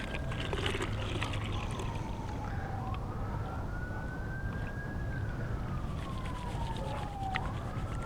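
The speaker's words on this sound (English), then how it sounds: "we got a siren in the background" An emergency siren wails slowly up and down in the distance, under a loud, steady wash of water and outdoor noise from hand-panning for fine gold.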